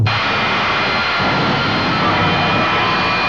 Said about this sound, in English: latest race car, his jet-powered dragster